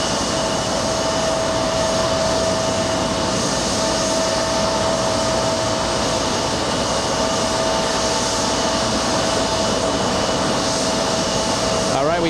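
A jet airliner roars near JFK airport, a loud, unbroken wash of engine noise with a steady whine that holds for the whole stretch.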